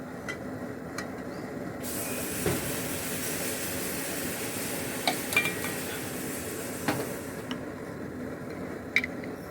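Roasted ingredients ground coarsely in a mixer grinder jar while cooking Tamil broad bean poriyal: a loud, steady motor whir runs for about six seconds amid background kitchen noise, then cuts off, followed by light clatter.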